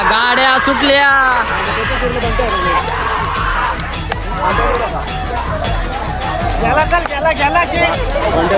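Crowd at a bullock cart race in Dhamangaon roaring and cheering loudly, with excited shouts, whistles and overlapping voices swelling throughout in a dense, close celebratory din.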